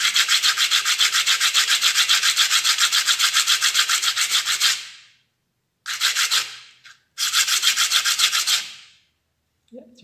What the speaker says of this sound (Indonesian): Kita amplas lagi, kita gosok-gosok lagi seperti tadi